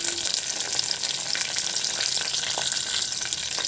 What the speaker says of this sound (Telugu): పచ్చిమిర్చి, ఎండుమిర్చి కొంచెం వేగాలి.